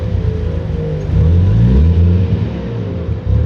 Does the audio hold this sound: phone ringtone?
no